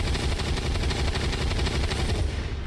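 Rapid automatic gunfire in Fallout: New Vegas, a dense continuous rattle of shots filling the whole stretch, loud and close with no talking.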